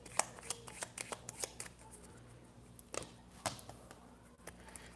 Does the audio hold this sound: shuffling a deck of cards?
yes